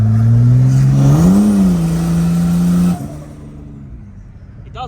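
A Holden VL turbo engine is driven hard, a loud, rising drone that swells mid-clip, then drops away abruptly to a quieter idle-like hum, recorded close inside the car with no talk.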